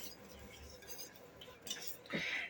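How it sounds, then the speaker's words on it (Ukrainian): Custard stirred in a pot on the stove while butter melts into it. Faint scraping and clinking of a utensil against the pot sound close and quiet, with a brief sharper clink near the end. "І продовжую помішувати, допоки розтане масло."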